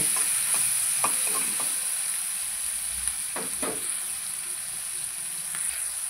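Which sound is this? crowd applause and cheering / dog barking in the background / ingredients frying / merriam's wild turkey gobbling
ingredients frying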